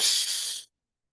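A sharp, hissing breath is drawn in through tightened nostrils for just over half a second, close and breathy, then cuts off into silence.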